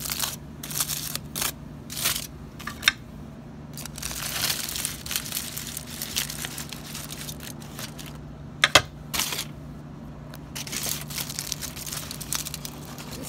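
A knife cutting through a meatball sandwich in half, with repeated crunchy crackles and crinkles of crusty bread and wrapping, irregular and close.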